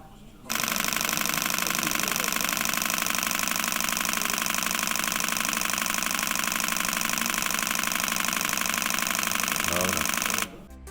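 A Nikon D6 camera shooting a continuous burst at 14 frames per second: a rapid, continuous mechanical whirring-clatter holds steady for about ten seconds and then stops abruptly.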